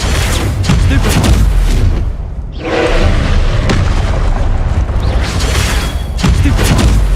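Loud booming magical blasts of the Stupefy spell cast in combat in Hogwarts Legacy, dense continuous impacts with a brief lull midway, heavy and close.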